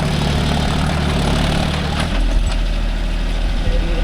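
A John Deere 5050D four-wheel-drive tractor engine runs close and loud, a steady heavy diesel rumble that deepens partway through as the load shifts.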